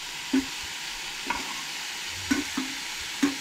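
Onions and tomatoes fry quietly in a pan for Goan-style chicken, a soft steady sizzle broken by a few sharp spatula knocks and scrapes.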